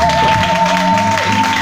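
A church congregation applauds and cheers in thanks during a worship service, producing a brief, loud wash of clapping and crowd noise with a steady sustained tone running through it.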